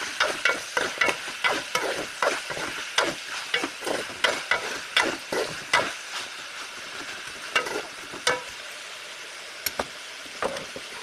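Chicken frying in a pan sizzles loudly while a utensil stirs it in quick, regular scraping strokes that slow and thin out toward the end.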